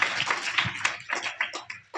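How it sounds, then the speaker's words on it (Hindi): Audience applause at a school motivational seminar in Badarwas, a steady dense patter of many hands clapping at moderate distance throughout. "जोरदार तालियां देखो"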